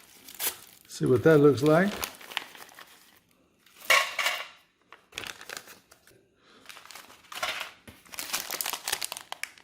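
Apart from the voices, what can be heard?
opening the wrapper of Latvian MRE berry candy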